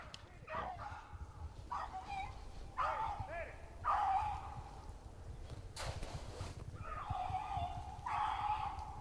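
A hunting dog chasing a rabbit in the Michigan woods gives repeated bursts of baying barks and yips. The calls come at irregular intervals over a low outdoor rumble.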